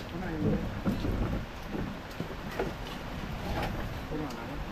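Heavy rain falls steadily at a construction site while work is done on a toilet septic pit, a constant wash of drops with voices talking over it.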